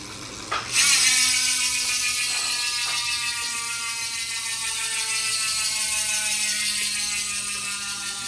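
A steady, fast mechanical buzzing of a DT Swiss ERC 45 1100 wheelset freehub ratchet, loud and continuous after a brief start, with no voices.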